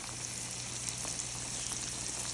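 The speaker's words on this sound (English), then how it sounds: "we've got our oil right here and we're just gonna do a nice fry right on there" Oil sizzles and crackles steadily under eggplant frying in a pan, a soft continuous hiss with small pops, no talking.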